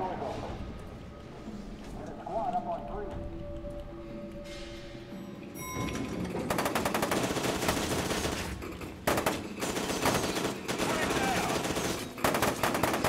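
Automatic gunfire in the shooter game F.E.A.R. 2, bursts of rapid shots crackling loudly over game music and effects, with someone talking over the action.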